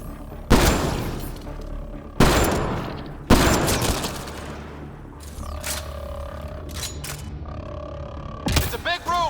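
Gunfight inside a gun battery in Mass Effect Andromeda, with several loud, isolated blasts spaced a second or more apart, each ringing out over a low rumble, then a final burst of sharp shots.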